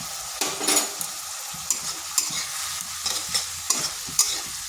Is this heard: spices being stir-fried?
yes